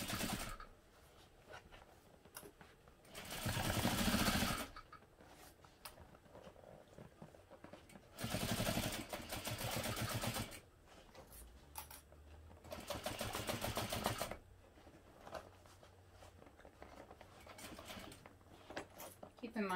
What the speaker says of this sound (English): I'm just sewing again using a 1/2 inch seam allowance.